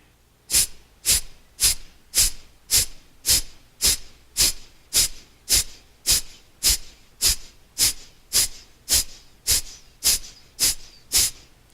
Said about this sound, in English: So you could hear my exhalations.